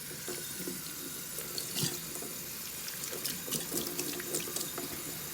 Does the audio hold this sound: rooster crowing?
no